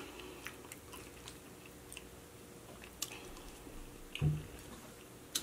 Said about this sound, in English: let me eat some more